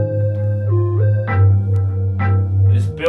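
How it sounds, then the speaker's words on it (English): A hip-hop instrumental layers a lead synth, a low synth and a main pluck together: a deep sustained bass tone under a gliding melodic line, with short bright plucked hits entering twice, loud and without talk. "And then with the lead and the low synth and the main pluck,"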